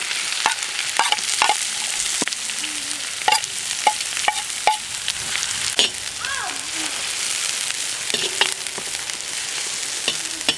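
Chopped onion fries in melted butter in a pot, giving a steady bright sizzle broken by repeated sharp clinks and scrapes of a utensil stirring against the pan.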